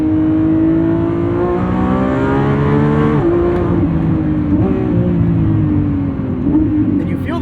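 A Lamborghini Revuelto's 1,001 hp V12 revs hard toward 9,500 RPM, a loud, close, rising engine howl with stepped pitch drops at gear changes, steady and without talk.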